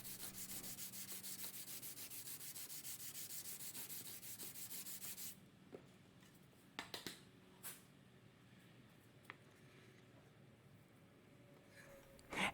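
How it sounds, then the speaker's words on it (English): Hand sanding of a CNC-machined wooden plaque with 120 then 220 grit sandpaper, a close, steady scratchy rasp of quick back-and-forth strokes for several seconds, then quiet with a few scattered taps and handling knocks. "now I'm just going to give the top a light sanding to get rid of any minor tear out"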